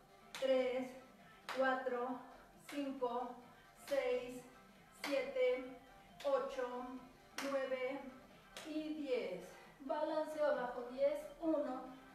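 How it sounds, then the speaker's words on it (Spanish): Sharp hand claps struck overhead during a weight-control exercise class, repeating at a steady beat of roughly one per second, each with a voice over it. "Desde aquí arriba, toco palmas."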